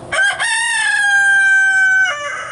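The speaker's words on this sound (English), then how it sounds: "a little peek at the chickens" A rooster in a chicken coop lets out one full, loud cock-a-doodle-doo crow close by, a long sustained call with a rising start and a dropping tail, over quiet background.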